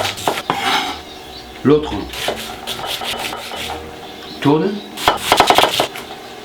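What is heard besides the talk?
knife cutting onions into slices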